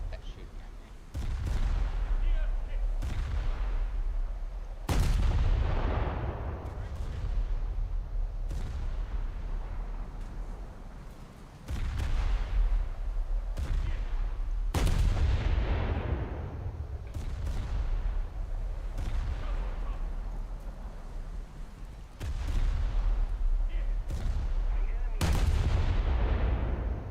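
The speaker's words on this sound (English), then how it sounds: "Where's this battleship that's shooting at me?" Heavy battleship guns in a naval battle game boom repeatedly in loud, widely spaced blasts, each followed by a long rumbling decay, with a few closer sharp reports between them.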